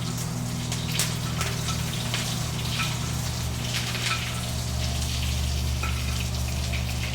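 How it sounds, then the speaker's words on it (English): Butter browning and sizzling in a pan with pork, rosemary, thyme and garlic: a steady close crackling fry with scattered pops and a low constant hum underneath. "Butter's starting to brown."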